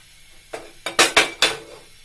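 A metal karahi wok is set on a gas stove, giving a short series of sharp metallic clanks and clinks, four or five close, bright hits within about a second.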